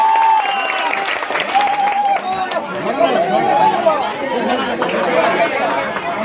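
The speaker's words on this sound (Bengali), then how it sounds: "আরেকবার জোরে হাততালি হয়ে যাও।" A large crowd at a public political gathering in West Bengal claps loudly, dense applause mixed with chatter and babble, with a voice audible over it.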